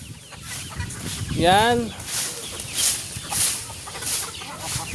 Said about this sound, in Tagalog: Yan na po ang ating mga chicken.